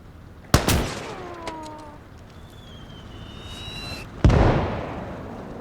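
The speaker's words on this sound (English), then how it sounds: "That was our mortar firing, thankfully." Mortar fire in Gates of Hell: Downfall, a WWII real-time strategy game: two sharp booming launches a few seconds apart, each with a lingering rumble, separated by a whistling shell sound.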